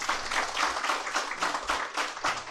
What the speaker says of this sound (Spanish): vamos dar aqui uma salva de palmas aqui para a nossa convidada